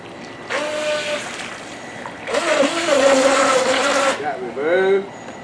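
A Syma Q7 Knight RC toy boat's small electric motor whines in bursts as it speeds across water, buzzing loud and near between short pauses, with splashing in the gaps.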